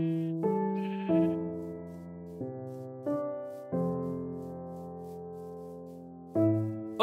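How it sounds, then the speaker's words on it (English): Several Minecraft sheep bleat in turn, about seven wavering, nasal baa calls of differing pitch in quick succession, fairly clear and close against a quiet background with no talk. "Oh, sheep."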